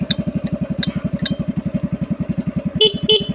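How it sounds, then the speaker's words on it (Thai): A motorcycle engine idles with a fast, even throb while a loud horn blasts twice near the end, close and sharp, with a ticking turn-signal beeper chirping earlier. "โอ้โหแตรดัง"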